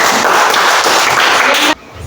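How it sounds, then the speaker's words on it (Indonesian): A group of people clapping together in a dense, loud burst of applause that stops abruptly. "Oke, tepuk tangan dulu."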